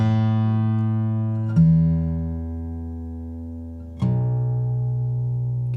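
Guitar tuned a fifth below standard, its high string dropped to B, playing deep, low chords for Celtic-style improvisation; three strummed chords ring out and slowly decay, close and alone.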